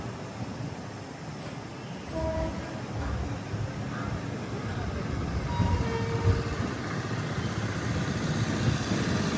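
An Amrit Bharat Express train runs near Chennai Egmore, giving a steady mid-level rolling rumble that builds slightly toward the end, with faint tonal squeals rising briefly over the noise.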